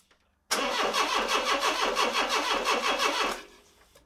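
A Renault Trafic 2.2 (2165cc) engine cranks after an engine swap, its starter churning in a loud, fast, even rhythm for about three seconds without catching, close up with no talk.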